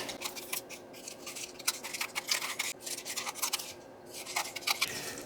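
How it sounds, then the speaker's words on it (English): Scissors trim a book page close to the ear, a steady run of crisp snipping and slicing cuts with brief pauses, quiet and without talking. "And then I'm going to trim out my book page."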